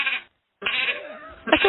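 A woman mimics a sheep with a few short, wavering bleats separated by a brief pause, close to the microphone and unaccompanied.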